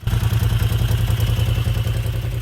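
A Moto Guzzi Le Mans 3 engine idling at a slightly high tick over, a loud, steady, close-up rhythmic mechanical beat with clattering valve noise and no talk.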